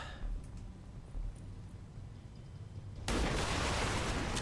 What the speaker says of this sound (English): Oh, and an explosion as well.